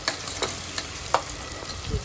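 Chopped onions for a Konkani-style crab masala sizzle steadily in a pan, close by. A spoon scrapes and stirs through them with several sharp clinks against the pan.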